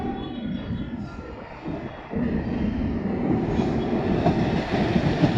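A passenger train passes nearby in Karaikudi, Tamil Nadu, a heavy rumbling roar that swells after a brief dip, with faint wheel clatter and no talking.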